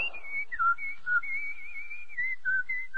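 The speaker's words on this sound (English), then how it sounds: "No wonder he's whistling." A man whistles a wavering, cheerful melody alone, clear and close, the pitch sliding between held notes with brief breaks.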